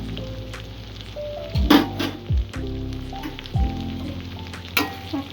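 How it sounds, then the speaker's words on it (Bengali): Spices being stirred in a pan for a vegetarian green jackfruit curry, with a steady frying sizzle under several scraping strokes of a spoon against the pan, close and fairly loud. "সব কিছু একটু ভালো করে নাড়াচাড়া করে নেব"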